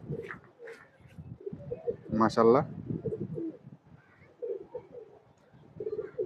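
Pigeons in a keeper's loft coo in low, throaty bursts, with one louder rolling coo in the middle, while someone talks briefly near the start and end.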